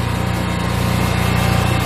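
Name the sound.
zero-turn riding lawn mower engine running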